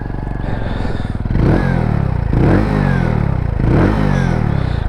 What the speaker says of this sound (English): On this bike we have a stainless steel exhaust running through